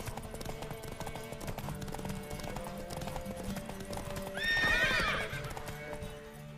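Hooves clip-clop steadily as a horse gallops in The Witcher 3: Wild Hunt beneath a backdrop of game music, and the horse gives a loud whinny near the end.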